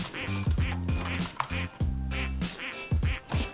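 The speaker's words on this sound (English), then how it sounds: "Lotus ducks." Repeated duck quacks from a video game, several short harmonic calls in quick bursts with brief gaps, loud and close, over a busy game soundtrack.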